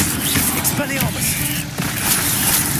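Spell blasts from the Hogwarts Legacy video game burst out in quick succession, sharp magical booms and crackles layered with a voice shouting incantations over them.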